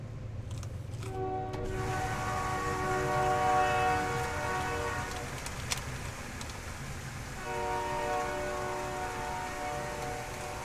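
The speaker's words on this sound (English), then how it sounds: "Everybody look at the train go by." A train rolls past during a New Mexico rainstorm, its horn sounding in long harmonic blasts over steady rain hiss, a sharp click midway and a second horn blast near the end.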